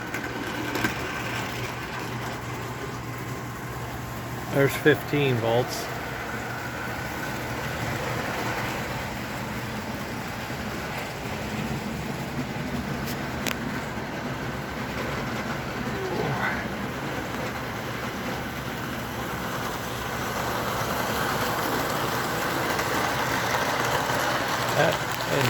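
An American Flyer F 360/361 model locomotive rolls along the rails pulling passenger cars, a steady low whirring hum with light clicks and a rattle, while someone talks over it.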